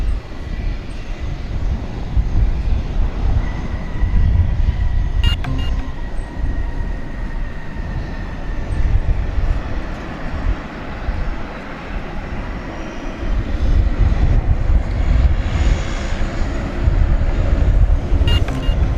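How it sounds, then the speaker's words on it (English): A passenger airplane on Flight 2351 from Mexico City rumbles at night at DFW Airport, a steady low roar that swells near the end, mixed with wind noise and faint distant hum. "That was Flight 2351 from Mexico City."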